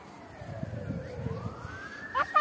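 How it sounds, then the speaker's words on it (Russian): A police car or ambulance siren wails as it passes along a street, its rising and falling tone sweeping and growing louder toward the end over low background noise. "То ли полиция, то ли скорая едет."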